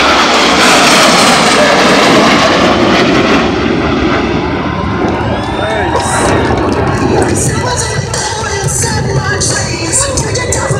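Four jet aircraft roll together overhead at an air show, a loud roaring engine rush that slowly fades as they pass, with spectators talking and cheering underneath.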